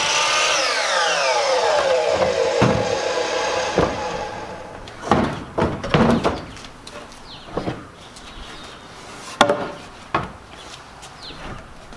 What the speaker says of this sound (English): It's been a long time since I used this miter saw, so I forgot to unlock it.